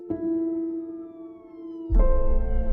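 An ambulance siren on Central in Highland Park, a steady tonal wail held for a couple of seconds, then a louder burst of engine or road rumble joins it near the end.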